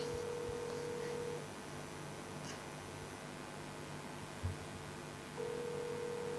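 A telephone rings during a call, with a steady ring tone that sounds briefly at the start and again near the end, separated by a quiet gap of faint line hiss.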